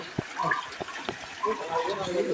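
Water splashing and falling steadily in a resort fountain, a continuous wash heard under a voice talking nearby.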